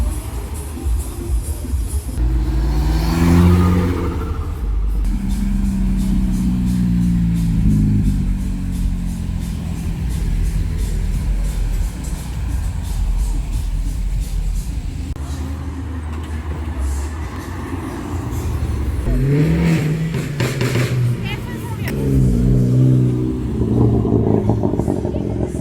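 A big BMW at an evening car meet revs loudly up close, its engine note rising and falling in long swells over steady background rumble and crowd noise, with voices talking now and then.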